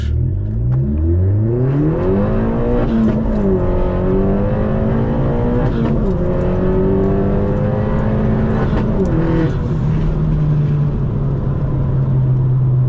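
A Vauxhall Corsa VXR hot hatch on Michelin PS5 tyres launching hard, its engine note climbing through rising revs, dipping at each gear change and pulling again, loud and close throughout.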